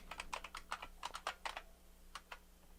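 A folder name is typed on a computer keyboard in a quiet room: a close run of about a dozen crisp keystrokes in uneven bursts, followed by a short pause and a few final taps.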